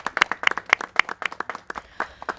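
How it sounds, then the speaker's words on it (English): A small audience at a city press event about relief grants for small businesses claps in distinct, sharp individual strokes, close and fairly loud, with a sparse, uneven rhythm that thins toward the end. "So let's give them a round of applause."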